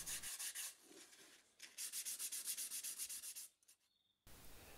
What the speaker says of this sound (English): Bit of hand sanding is always required at the end of a project.